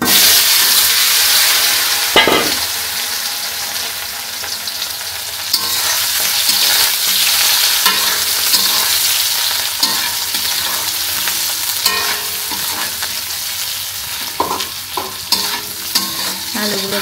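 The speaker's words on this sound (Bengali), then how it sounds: "আলুগুলো একটু ভাজা করে নিই।" Potatoes fry in a pan with dry red chili and nigella seeds during preparation of a banana flower curry: a steady close sizzle with repeated stirring and scraping of a spatula, with a few sharper clatters.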